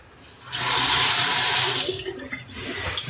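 A razor is rinsed under running tap water, a loud close gush that starts abruptly, holds for about a second and a half, then eases into lighter splashing.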